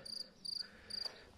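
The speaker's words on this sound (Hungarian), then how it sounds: "Ciripel a tücsök." Cricket chirping in a vegetable garden in June, three short regular bursts of shrill trilling about half a second apart, fairly faint over a soft outdoor background with no talk.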